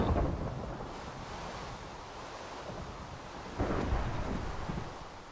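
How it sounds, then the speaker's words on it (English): Rolling thunder rumbles in the video game Minecraft, a low continuous roar that swells again midway, loud and unaccompanied by speech. "I hear the thunder"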